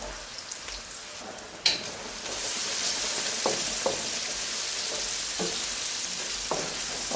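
Hot chili peppers dropped into hot oil, the sizzle jumping suddenly to a loud, steady hiss like heavy rain, with a few stirring clicks over it, close up.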